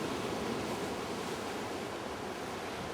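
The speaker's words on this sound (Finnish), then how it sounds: "isoja aaltoja." Big ocean waves roar in a steady, dense wash of surf, loud and continuous with wind noise mixed in and no voices.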